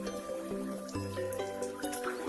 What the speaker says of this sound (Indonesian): Ini air pancuran nih.